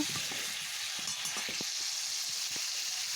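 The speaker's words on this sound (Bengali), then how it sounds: "এদিকে আলু ভাজা চলছে তো আজকে হবে চিকেন রান্না তো চিকেন রান্না করব আলু দিয়ে তো সেই জন্য আলুগুলো ভেজে নিচ্ছি" New potatoes fry in a pan, giving a steady, close sizzle that holds evenly throughout, with a few soft ticks and pops and no voices.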